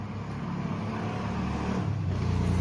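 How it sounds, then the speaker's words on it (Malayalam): A motorbike passes outside, its engine a continuous rumbling drone that grows steadily louder and nearer over a few seconds, with no voices over it. "ഭയങ്കര ബൈക്കിന്റെ ശബ്ദവും."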